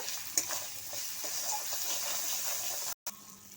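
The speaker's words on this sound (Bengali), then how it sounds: "সমস্ত মশলা একসঙ্গে খুব ভালো করে মিশিয়ে নেব" Fish with turmeric, salt and spices stirred in a hot pan for royna fish, a steady close sizzle with scraping stirs and a brief break near the end.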